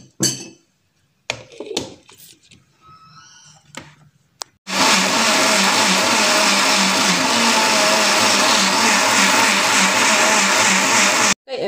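After some brief kitchen clatter, an electric blender roars loud and steady for about seven seconds, whirring guava shake with three tender coconuts and their water, then cuts off abruptly.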